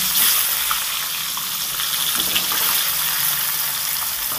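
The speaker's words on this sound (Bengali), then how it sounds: "আলুগুলো আমি ভেজে নেব।" Potatoes fry in hot oil in a wok after fish has been fried in it, giving a steady, loud, dense sizzle that holds evenly throughout with no voices.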